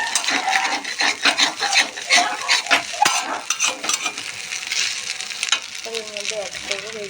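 Fried potatoes are stirred into pasta in a pan, with scraping and clattering of a spatula against the metal over a light sizzle and a few louder knocks.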